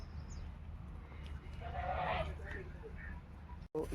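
Young goats bleat in the morning at a rural roadside spot, a few close, wavering cries rising over low steady background noise.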